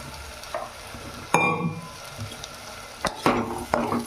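Boiled potatoes tipped into a hot pan for a spicy aloo egg pulao, with a few sharp scraping stirs and clatters over a low, steady sizzle of frying, no voices.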